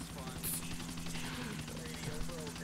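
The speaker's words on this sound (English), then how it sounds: "we're just going to have a sumo wrestling match with choppers" Helicopters in the GTA IV multiplayer game hover and clash close together, a steady rotor drone with a low tonal hum running throughout, fairly constant in level with a brief high hiss near the start.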